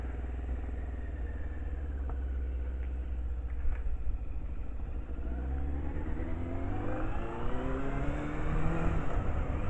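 Yamaha Fazer motorcycle riding at speed through a village: a continuous engine drone with wind rush, rising in pitch near the end as the bike accelerates, with no talking.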